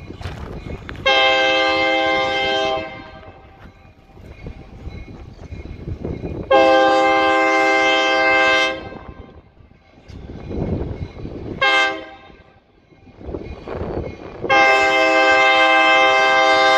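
An Escanaba and Lake Superior Railroad freight train, number 502, passes close by at night, sounding its horn in repeated long harmonic blasts over the heavy rumble and rattle of rolling cars.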